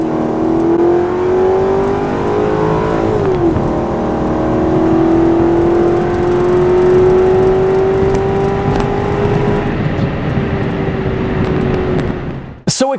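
A Mercedes E55 AMG launches hard at the drag strip, its loud engine note climbing steadily, dropping briefly at one upshift, then rising again through a long pull before cutting off abruptly.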